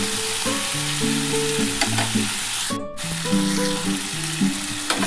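Radish and potato fry in fish oil in a pan, a dense close sizzle with occasional stirring scrapes, mixed with steady tonal background music and a brief dropout midway.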